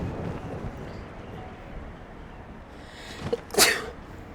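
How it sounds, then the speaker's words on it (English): A single sharp sneeze near the end, loud and close after a quiet stretch of background noise. "I'm gonna sneeze."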